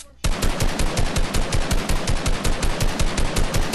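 Rapid automatic gunfire from a gun in Fortnite, a dense, steady stream of loud shots in quick rhythm that runs without a break after a brief quiet start.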